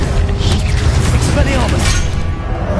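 A Confringo fire-blast spell from the game Hogwarts Legacy erupts in a dense, loud booming rumble with crackling over it, amid continuous battle noise.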